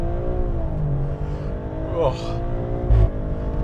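A Maserati Grecale Trofeo SUV launches from a standstill at full throttle, its engine note climbing in rising harmonics for a few seconds with a brief thump near the end, while a voice briefly exclaims.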